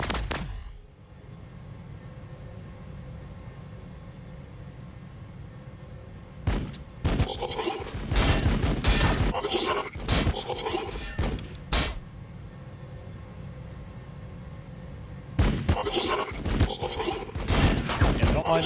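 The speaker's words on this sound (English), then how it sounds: "Got all kinds of shots coming in." Bursts of gunfire crackle in the strategy video game Warhammer 40,000: Battlesector, with two dense clusters of sharp shots separated by a steady low battlefield rumble.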